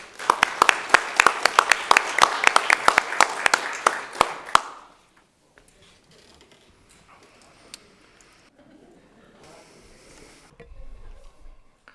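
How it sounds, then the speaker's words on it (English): Applause at a Germantown Board of Mayor and Aldermen meeting, a few people clapping fairly close in a quick irregular patter that stops abruptly after about four seconds, followed by quiet room noise and faint shuffling. "So another round of applause."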